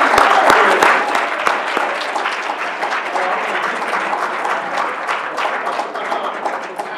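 A room full of people applauds as Wade Norwood is welcomed to present an award at a Rochester Board of Education business meeting, starting loud with a few sharp claps and gradually thinning into a steady, slightly fading patter.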